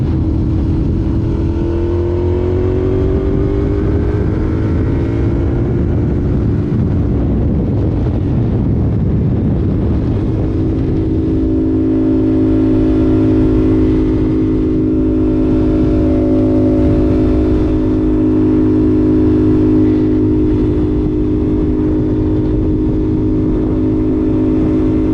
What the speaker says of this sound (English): Gonna take this for a little spin